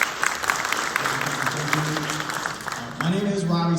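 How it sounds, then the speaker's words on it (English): Audience applause at an event honoring the organizers, a short burst of many people clapping, moderately loud, tapering off as a voice begins speaking over it toward the end. "A round of applause for Robin King and her staff for putting this day together"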